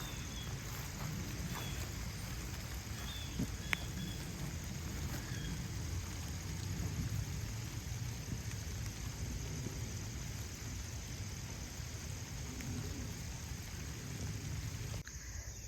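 Steady rain falls across a garden of hydrangeas, a constant even hiss with occasional faint drips, no voices, lasting the whole stretch at moderate level.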